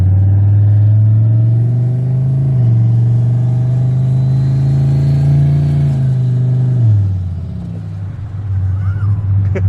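A turbocharged GMC Yukon engine running just after its first start, a loud, deep idle that revs up and holds, then drops back, with voices faintly heard.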